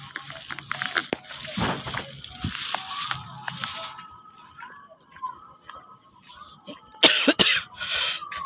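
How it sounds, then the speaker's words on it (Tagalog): Several coughs and throat-clearing sounds from a person outdoors at a New Year gathering, heard close in the first seconds, followed by quieter ambience with crickets and a few sharp knocks near the end. "Ay, naubo ako"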